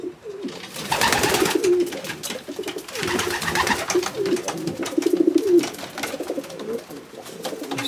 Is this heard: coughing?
no